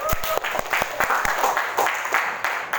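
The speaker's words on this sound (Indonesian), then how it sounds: "Tepuk dulu, tepuk tangan dulu." High school students in a classroom clapping their hands together, a brief round of sharp, fairly close claps that turns into scattered applause, with some voices mixed in.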